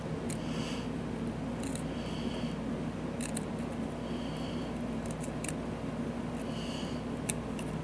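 Small scissors snipping Japanese cotton for a vape coil build, a few quick short clicks and snips spaced irregularly over a quiet room hum, close and fairly faint, with no talking.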